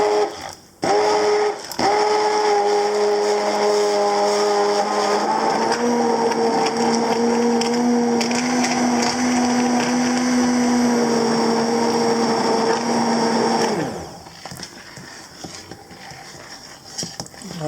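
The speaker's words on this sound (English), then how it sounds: "use your classic blender for a creamier mix" A blender whirs loudly and steadily for several seconds as it purées mushroom soup, its motor pitch shifting slightly as it churns, then winds down and stops.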